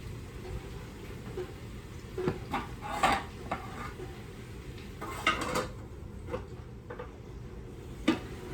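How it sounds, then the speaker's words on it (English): Metal lid set back onto a skillet of cooking potatoes, a few light clinks and clatters of cookware, quiet and close, with small scrapes between them. "Then I'm gonna put my lid back on."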